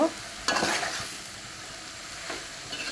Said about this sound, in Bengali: আমি মাছটা দিয়ে এখন ভালো করে আরবারও কষিয়ে নিচ্ছি